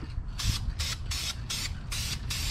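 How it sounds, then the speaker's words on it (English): An aerosol spray can lays a rust-preventing coat of paint in six short, even bursts of loud hissing spray, separated by brief pauses, heard up close with no talking. "Just gonna give it a quick coat of paint."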